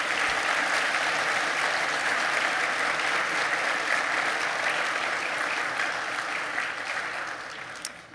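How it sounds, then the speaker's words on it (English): Sustained applause from a large audience at a police graduation ceremony, dense and steady clapping that holds for several seconds before tapering off at the end. "Please give them all a big round of applause."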